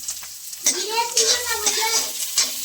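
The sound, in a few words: cumin seeds being tempered in hot oil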